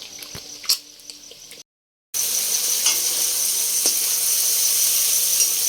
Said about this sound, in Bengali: ডিমগুলো তুলে নিয়ে ওই তেলেই আমি মশলাটা দিয়েছি